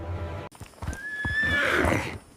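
A lame, broken-down horse gives a loud, close whinny that rises and trails off, after a few soft snorts and shuffling sounds.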